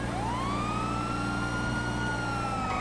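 A wailing police car siren in the GTA FiveM video game sounds steadily and loudly, its rising and falling tones continuous over a low engine rumble, with no talk over it.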